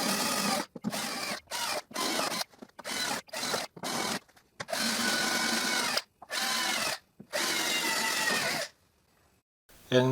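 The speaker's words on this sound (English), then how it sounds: "So I drill 4 holes in each hoop." Power drill boring holes through the metal hoops of a wine barrel, in repeated loud bursts of a few seconds each, separated by short silent pauses, with no talking.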